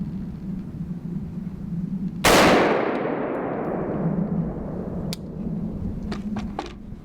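A single sharp AR-15 rifle shot strikes a helium tank, a loud crack followed by a long hissing rush of escaping gas that slowly fades, with a few faint clicks near the end.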